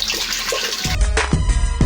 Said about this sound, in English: So I'm going to add my water and I'm making a 5 liters of fabric softener.